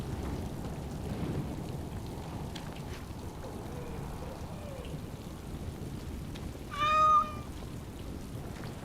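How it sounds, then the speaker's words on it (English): A cat in the video game Dragon Age: Origins gives a single short meow toward the end, rising clearly above a steady background of rain-like ambience. "Who's the pretty kitty?"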